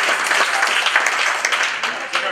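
Applause from the crowd at a charity auction gala fills the room, dense and steady, with people talking over it.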